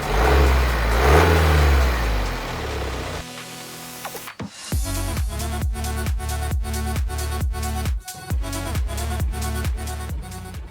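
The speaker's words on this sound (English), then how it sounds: "my new to me 2015 BMW F31 Touring 328 diesel" A 2015 BMW F31 Touring 328 diesel wagon engine starts from a rumbling idle, then revs repeatedly in quick throttle blips, loud and close with a steady rhythmic pulse.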